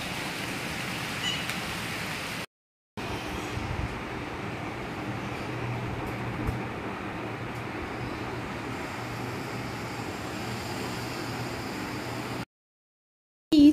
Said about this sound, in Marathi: रिमझिम पाऊस पडत आहे।